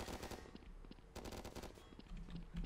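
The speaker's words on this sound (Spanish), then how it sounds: "Te estoy metiendo unos chapazos con la ametralladora que flipas" Rapid machine gun bursts in Garry's Mod, sustained rattling fire broken by short pauses, loud and dense throughout with no voice over it.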